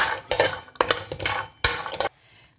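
A cup of cashews is tipped into ghee in a pan in three quick, rattling pours, each a burst of hard nuts clattering against metal, before the sound stops abruptly.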